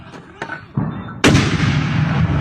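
An artillery gun at the Thai-Cambodian border fired by pulling a lanyard: after a couple of faint clicks and a thump, one sharp, loud blast erupts and rolls on into a broad lingering boom.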